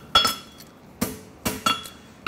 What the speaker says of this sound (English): I hit about a half inch in front of the end of the heel with the round of my hammer.